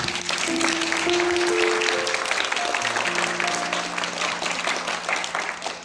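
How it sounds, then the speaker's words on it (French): Sustained applause from a large audience at the Octobre Rose 2024 launch in Le Tréport, dense steady clapping filling the whole stretch, with faint tonal music or voices underneath. "je vous demanderai de les applaudir tous"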